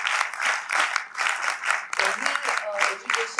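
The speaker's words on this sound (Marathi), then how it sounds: "या अनव्हेलिंग साठी सुद्धा मला वाटतं जोरदार टाळ्या झाल्या पाहिजेत" Applause for an unveiling at a conference, a crowd clapping in a loud, steady wash of many hands that swells and dips, with a voice talking over it.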